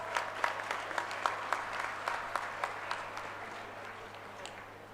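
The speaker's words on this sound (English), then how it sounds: "Can I have a huge round of applause?" Applause at an international research conference, faint and thin with a few distinct claps standing out in a steady rhythm over a low electrical hum, gradually tapering off.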